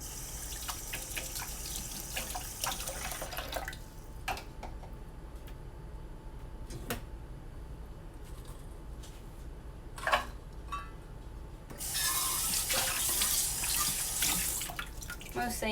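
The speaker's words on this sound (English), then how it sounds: "Most things just need a rinse. Got our black beans rinsed and ready." Black beans rinsed in a kitchen sink under a running tap. Water splashes and trickles steadily, with small ticks and drips, then turns into a louder rushing stream near the end.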